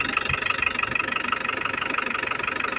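A diesel Isuzu Trooper 4JX1 engine idles after an oil pressure pump repair, giving a close, steady, fast-pulsing clatter with an even rhythm and no talk over it.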